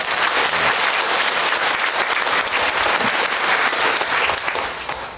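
Church congregation applauding in thanks during a Sunday worship service, a sustained, loud burst of clapping from a large crowd that fills the room throughout, tapering slightly at the end.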